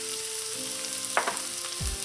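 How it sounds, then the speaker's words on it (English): Garlic dropped into a pan of translucent sautéing onions for Jamaican rice and peas, a brief burst of bright sizzle and crackle over the steady frying hiss, close and alone. "and I'm going to add in my garlic"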